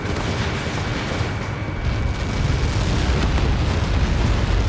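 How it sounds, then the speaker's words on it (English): Massive explosion from Helios projectile impacts in the jet combat game Ace Combat 7: Skies Unknown, a loud, sustained, deep rumbling roar that fills the whole stretch and swells slightly toward the end. "How many got caught in that explosion?"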